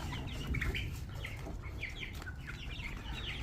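Faint chickens cluck and chirp in a coop, with short scattered calls over a steady low background hum and no voices.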